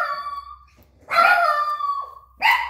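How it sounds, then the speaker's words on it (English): Several dogs whine and yelp in bursts, one drawn-out whimper followed by louder bark-like cries, fairly close and alone without talk. "dogs can't keep quiet"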